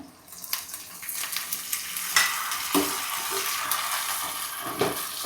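Curry leaves hit hot oil with mustard seeds for a homestyle onion curry, bursting into a sharp crackling sizzle with sudden spits and pops over a steady frying hiss, close and fairly loud.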